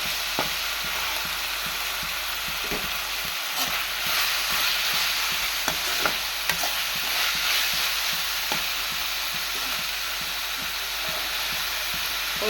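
Drumsticks sautéing in a pan with salt for a drumstick fry, giving a steady close sizzle with regular stirring clicks and scrapes over about twelve seconds, no voices.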